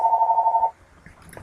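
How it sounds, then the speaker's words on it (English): A telephone rings with a short warbling electronic tone lasting under a second, then cuts off, leaving quiet room noise and a few faint clicks. "That's just the phone ringing."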